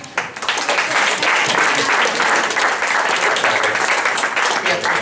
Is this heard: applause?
yes